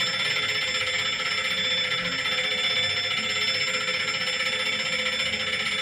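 Bells of several clocks ringing together in a watchmaker's workshop, a bright, steady metallic chiming that stays loud and continuous throughout with no pauses.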